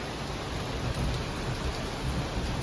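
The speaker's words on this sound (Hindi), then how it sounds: "उठी बारिश हो रही है।" Steady rain pours outdoors in a continuous loud hiss, close and unbroken, with no voices over it.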